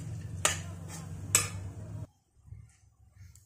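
Cashews and almonds roasting in mawa and ghee on low heat, a soft sizzle under a low hum with two sharp spoon-on-pan clinks, then a short quieter stretch of light stirring.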